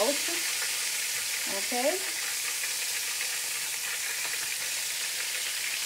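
Pork chops frying in a pan, a steady sizzling hiss at moderate level with a brief spoken word near the start.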